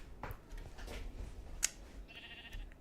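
A video game sheep bleats faintly a few times over a quiet background, with a brief sharp click in the middle.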